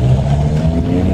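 A BMW car speeds away during a police chase, its engine a loud, close, continuous low roar with steady revving and no voices over it.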